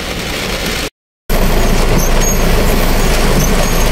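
Dense, steady roar of heavy rain and gusting wind filling the whole clip, broken by a brief dropout of silence near the start.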